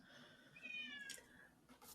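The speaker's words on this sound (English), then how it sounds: "No, that's your cat." A pet cat gives a single drawn-out meow, faint and in the background, followed by a brief second softer call.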